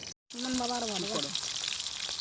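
Stuffed pointed gourds fry in a pan of oil with a continuous bright sizzle, while a voice briefly speaks over it near the start.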